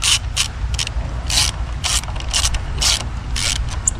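Ratchet on an old Toyota Land Cruiser chassis, pulling the wheels off: repeated bursts of fast ratcheting clicks in short spurts, close and fairly loud, over a steady low rumble, no talking.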